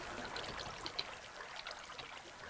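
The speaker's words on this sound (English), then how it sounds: "magically you're under the waterfall." Minecraft waterfall heard from underneath: a steady, close, hissing rush of falling water with light splashing, with no talking.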